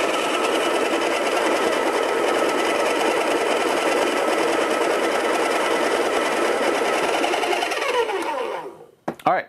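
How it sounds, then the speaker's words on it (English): A Baratza coffee grinder with a single-dose hopper grinding beans, a loud, steady, close whirring buzz that runs for about eight seconds, then winds down and stops with a few small clicks. "So I'm gonna go for about 20, and then we'll just start grinding."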